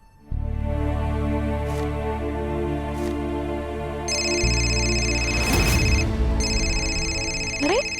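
A mobile phone left behind in a house rings with a steady electronic ringtone, loud and close, its melody shifting partway through and repeating without pause.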